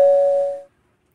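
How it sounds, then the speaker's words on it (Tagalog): A single doorbell chime rings out clearly and fades away within a second, followed by silence. "Ay, Sir Dave, may nag-doorbell."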